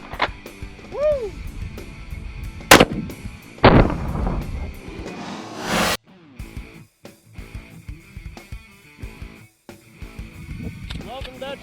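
Gunshots at an Amish-themed firearm gender reveal, a couple of loud sharp reports ringing out outdoors amid cheering and talk, followed by a quieter stretch of voices.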